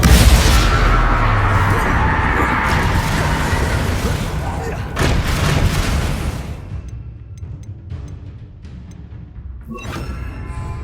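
Casting in the Hogwarts Legacy game brings loud booming spell blasts and crashing impacts, heaviest at the start and again around the middle, mixed with shouted incantations and game music.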